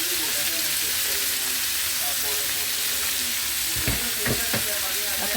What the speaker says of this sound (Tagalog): Haluin lang natin.